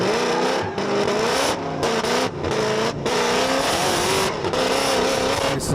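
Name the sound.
race car with twin supercharged LS engine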